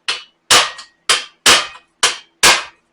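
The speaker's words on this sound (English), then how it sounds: "I've got a punch and hammer, and let's just see if I can tap it out." Six sharp metallic strikes of a hammer on a punch, tapping a Ford blue oval badge out of a grille shell, close and loud, spaced about half a second apart with ringing decay after each.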